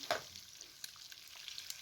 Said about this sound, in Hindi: ऑयल के अंदर इन्हें भी 1 से 2 मिनट तक फ्राई कर लें।